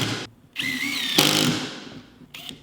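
A power drill drives 2.5 inch screws into wood while building a corn hole board hanger, its motor whining and rising in pitch with a squealing tone, then cutting off and briefly restarting close by.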